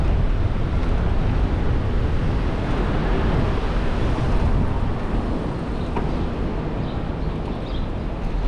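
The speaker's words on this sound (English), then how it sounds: "Facing a little bit of wind right now." Steady wind buffeting outdoors on Roosevelt Island, a continuous broadband rush that stays loud and even throughout with no voices.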